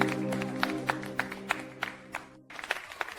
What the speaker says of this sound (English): the applause begins to echo around them